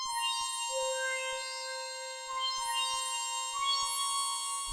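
A dry synth lead played in FL Studio with no effects, a clean bright tone holding steady sustained notes with a few pitch changes, alone and moderately loud.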